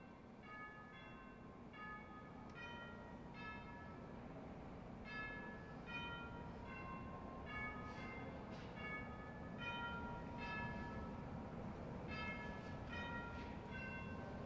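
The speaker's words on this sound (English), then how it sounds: "the Senate will observe a moment of silence and the Senate chimes will ring" Chimes in the Colorado Senate chamber ring repeated short runs of descending tones for a moment of silence, moderately loud over a steady room hum, with no talking.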